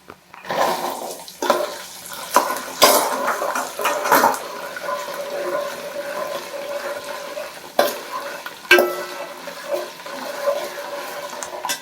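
Garlic drops into hot oil for a tempering and sizzles close up, with bright splattering crackles and sharp pops that settle into a steady hiss.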